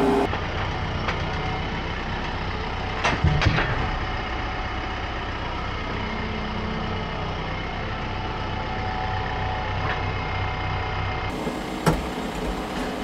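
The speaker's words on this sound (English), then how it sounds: "I think I'll use the track loader for that, though, because it's got the pallet forks on it" A track loader fitted with pallet forks hauls lumber around an outdoor sawmill yard, its diesel engine droning steadily at moderate distance with a few clanks and knocks and a brief sharp bang near the end.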